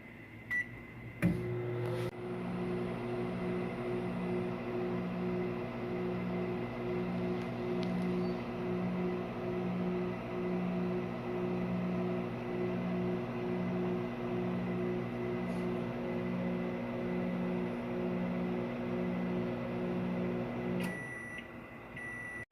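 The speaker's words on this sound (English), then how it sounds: "now we're going to test the microwave" A microwave oven with a turntable that is not spinning hums steadily with a pulsing drone for about twenty seconds while heating a mug of water, bracketed by a few clicks and a brief beep at the end.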